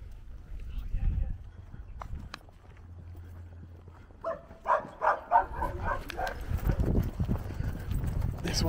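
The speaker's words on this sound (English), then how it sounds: "They would have heard that dog barking," A dog barks several times in a quick burst partway through, fairly close, amid footsteps and movement in an abandoned village, with people talking around it.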